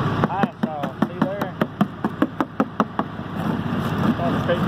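Scraping ice off a frozen car headlight: a quick series of sharp, regular taps and scrapes, close and fairly loud, with a person talking over them.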